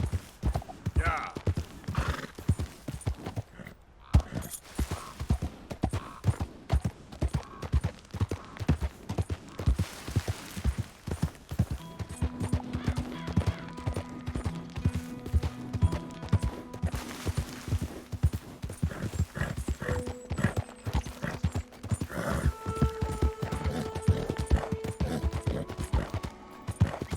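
Horse hooves clip-clopping in a steady rhythm with occasional neighs in the Western video game Red Dead Redemption 2, joined later by sustained music tones, with people talking over it.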